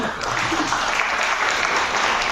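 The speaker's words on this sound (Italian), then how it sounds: "Un applauso" An audience claps at a company product presentation in Dubai as two women leave the stage. Dense, even applause fills the whole stretch at moderate loudness with no break.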